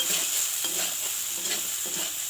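Pasta stirring and frying in a pan over a low gas flame, a steady close hiss and sizzle with soft scraping strokes of the stirring running throughout, no voices.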